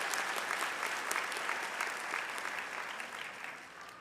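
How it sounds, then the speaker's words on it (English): An audience at a spring convocation for a school of health sciences breaks into applause, a dense, sustained wash of clapping from a large crowd that holds steady for several seconds and eases slightly near the end. "Yeah, go ahead and clap."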